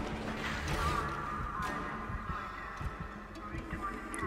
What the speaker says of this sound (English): Why do I hear my heartbeat?